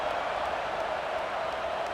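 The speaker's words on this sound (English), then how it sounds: "this crowd is feeling themselves after that last drive" Stadium crowd in EA College Football 26 at Ohio State vs Wisconsin, a steady, dense roar of cheering spread evenly across the whole stretch, with no distinct voices rising out of it.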